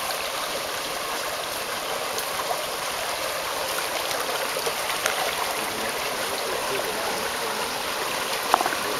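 A village stream flows downhill toward a mill in Ayvacık, a steady broadband rushing of water heard continuously at moderate level with a few faint clicks.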